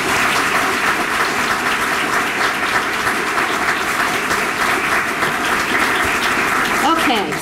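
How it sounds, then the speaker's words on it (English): An audience at a state health department team recognition awards ceremony gives a sustained round of applause for award recipients, dense and even clapping that fills the whole stretch with a brief shift near the end. "So give them all a big round of applause."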